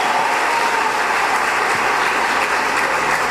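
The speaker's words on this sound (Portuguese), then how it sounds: "Pode aplaudir, dá um glória a Deus." Congregation applause fills a church service just before a sermon on restoring dreams: dense, steady clapping from many hands, close and even throughout with no break.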